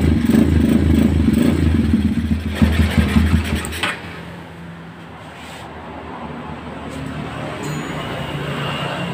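A Honda Megapro, GL Max or Tiger motorcycle runs after an ignition fault is repaired, its engine idling loudly with rhythmic revving pulses, then dropping to a quieter background hum as the engine noise fades.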